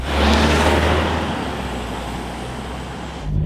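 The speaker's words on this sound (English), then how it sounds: "2-litre diesel engine, kicks out 180 horsepower" A Jaguar F-Pace with a 2-litre diesel engine drives along, giving a constant broadband road and engine rush that is loudest at the start. The noise eases slightly, then swells again as the clip ends.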